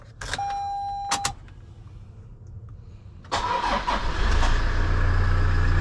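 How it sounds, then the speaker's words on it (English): A Toyota Hiace 2.7 turbo diesel engine is started cold: a brief starter whir, then the engine catches and settles into a steady low diesel idle. A faint electric whine is heard earlier, and no one speaks. "see how it's like when we start up the engine cold in the morning"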